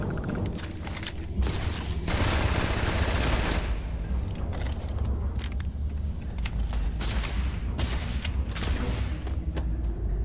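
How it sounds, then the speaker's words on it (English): Enemy gunfire in Starfield comes as bursts of loud, crackling shots, with short gaps between volleys and a dense stretch near the start. "Why is he shooting at me?"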